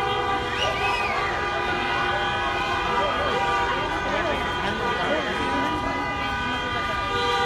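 Protesters honk car horns in a street in Nogales, Sonora, sustained overlapping blares layered into a loud, dense wall of tones, with voices mixed in beneath.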